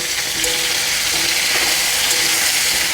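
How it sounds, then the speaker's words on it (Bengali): Cauliflower pieces with turmeric and salt fry in hot oil, giving a loud, steady, close sizzle that runs unbroken throughout with no talking. "ওই তেলের মধ্যে ফুলকপিগুলো ভেজে নেব"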